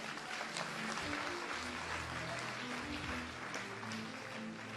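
A congregation at a church conference in Abidjan claps in a loud, sustained round of applause, with music or voices faintly underneath.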